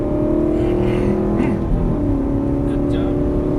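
Aston Martin V8 Vantage engine building revs on a Las Vegas race track, a loud steady drone from inside the car with an instructor talking over it.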